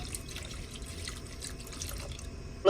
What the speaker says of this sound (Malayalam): അതിനുശേഷം വെള്ളം പാർന്നു കൊടുക്കാം